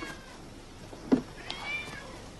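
A cat meows once, short and fairly close, with a fainter drawn-out mewing cry following, over a quiet room.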